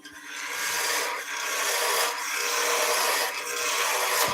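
Continuous scraping and rasping of a small skew chisel cutting into wood spinning on a lathe, making a hanging bauble, in long strokes with brief dips between passes.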